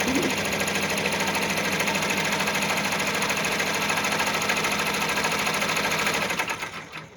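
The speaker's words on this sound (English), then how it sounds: "Okay, so that's it for sewing." A sewing machine stitches fabric for a bunny softie, a fast, loud, continuous mechanical whir and rapid needle clatter that runs for about six seconds before winding down to a stop.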